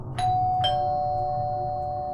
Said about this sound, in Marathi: अचानक त्याच्या घराची बेल वाजली